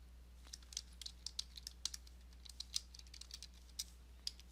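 Light, crisp keystrokes tap out a new assessment name on a computer keyboard, an irregular patter of quiet clicks over a low steady hum, with no voices.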